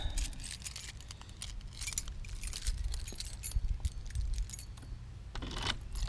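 A bunch of too many keys jangles and clinks steadily at a deadbolt lock, close and fairly loud over a low background rumble, with bursts of metallic rattling throughout.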